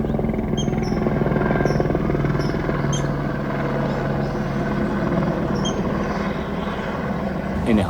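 A helicopter drones steadily overhead in Los Angeles, a loud, continuous low rumble with no break from start to finish.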